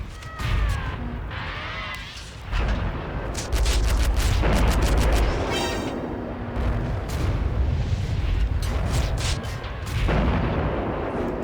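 A modded tank gun firing in World of Tanks: heavy booming cannon shots recur amid rumbling engine and battle noise, with a few sharp reports and brief game voice lines and chirps between them.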